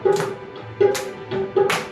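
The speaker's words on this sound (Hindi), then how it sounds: "ताली बजाते हैं प्रभु की महिमा करते हुए," Worshippers in a Hindi-speaking church congregation clap in time together during praise, three sharp bursts of collective hand claps at a steady rhythm over a sustained musical drone.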